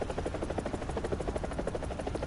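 A helicopter in the combat game War Thunder flies close by, its rotor giving a loud, steady, rapid chopping pulse with a constant engine whine underneath.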